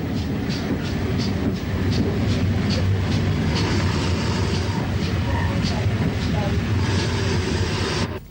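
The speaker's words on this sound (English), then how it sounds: "57XX pannier tank number 3621 arrives with the train from Neath" A 57XX pannier tank steam locomotive, number 3621, arrives at a junction with a train from Neath in 1962. It is a continuous heavy rumble with rhythmic clicks of wheels over rail joints, steady and close throughout.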